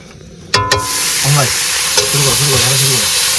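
Onions drop into hot oil in a pan on a boat in the Sundarbans, bursting into a loud, sharp sizzle that settles into steady frying while someone talks over it.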